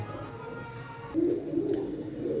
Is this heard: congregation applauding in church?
no